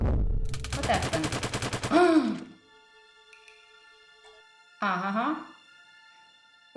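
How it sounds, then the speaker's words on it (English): Rapid series of sharp rumbling impacts from a cave-in in the video game Ocean's Heart, followed by a heavy crash, a quiet tonal game backdrop, and another brief burst of crumbling noise. "it sounded like some kind of cave in back by the entrance"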